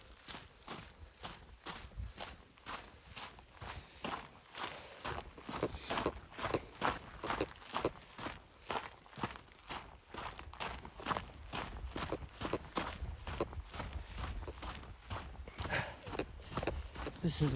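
Steady footsteps crunching down the steep Cleetwood Cove Trail at Crater Lake, Oregon, close and rhythmic throughout, with a person talking quietly over the steps.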